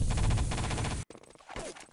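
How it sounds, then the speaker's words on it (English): Mortar strike landing in Wolfenstein: Enemy Territory, set amid a dense, loud burst of rapid gunfire that cuts off abruptly, followed by scattered fainter battle noise. "And I got hit by a mortar there by Sarah J."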